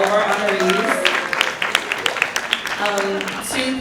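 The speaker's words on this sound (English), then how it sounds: "Clap it up for all of our honorees" Clapping from an audience at a museum anniversary award ceremony honoring arts advocates, heard in the background beneath a speaker's voice that carries across much of the moment.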